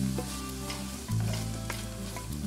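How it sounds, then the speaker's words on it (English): Garlic and paprika cooking in a pan for a chorizo and hominy soup, a continuous sizzle with stirring scrapes and a low hum underneath, close and even, without speech. "Now add the garlic and the paprika. Cook for another 3 minutes,"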